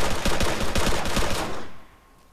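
Automatic gunfire in the video game Arma 3 comes as a rapid burst of about a dozen sharp, loud shots, then cuts off and leaves a fading tail.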